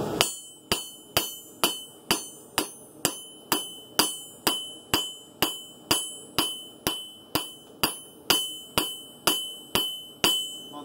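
A hammer strikes a forged steel blade on an anvil, putting in a bevel: about twenty-two sharp, ringing metallic blows in an even, steady rhythm, close and loud, each decaying quickly.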